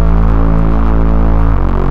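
Dark witch house synth patch with a heavily resonant low-pass filter, sustaining a loud, steady droning tone with a ringing overtone and a slight pitch drop near the end, with no voices.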